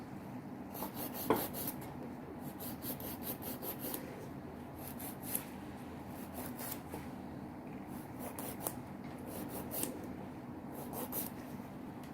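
A nail file rasps in short repeated back-and-forth strokes across fingernails during a simple manicure, soft close scratchy bursts in uneven clusters with brief pauses between.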